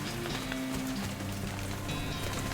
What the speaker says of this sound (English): clouds rolling over it, begins to rain